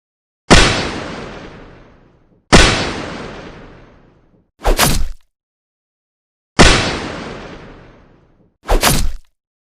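Three loud, booming gunshots ring out, each with a long decaying echo, interleaved with two shorter sharp bursts; no voices.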